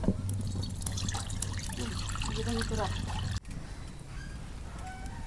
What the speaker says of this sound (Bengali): পানি দিয়ে দেই।